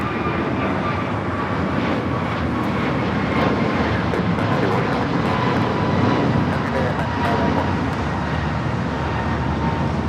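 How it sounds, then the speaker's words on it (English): An American Airlines Airbus A321neo takes off at Los Angeles airport, its engines producing a loud, steady broadband roar that holds strong through the whole stretch, with voices faintly underneath. "American Airlines 591 taking off to Washington Reagan National on the A321neo"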